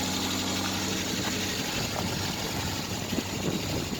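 A 1989 Renault Super 5 GTR, unmodified and running on 100% ethanol with a little choke after a cold start at minus five degrees, idles with a steady low rumble, close and fairly loud, with no voices.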